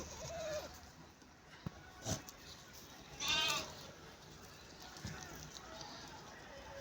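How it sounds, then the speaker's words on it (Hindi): Teddy goats on a farm bleat in a few short calls, one clearer and nearer cry standing out over low outdoor background noise. "ये बकरी है, टैडी बकरी है"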